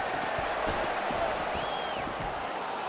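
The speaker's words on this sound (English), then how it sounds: "that punch, listen to the reaction from the crowd" The crowd in the EA Sports UFC game on PS5 reacts to a punch in a mixed martial arts bout, a dense, steady roar of murmuring and cheering that holds at a constant level throughout.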